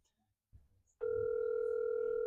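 A telephone call rings out unanswered: after a short rustle, a steady, loud ringback tone starts and holds unbroken to the end, with no voice.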